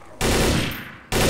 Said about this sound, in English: Fine shooting, Michael.